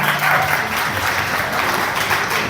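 Audience applause at a Punjabi meet and greet gathering in Canada, a dense steady round of clapping from a small crowd for the full stretch, fairly loud and close.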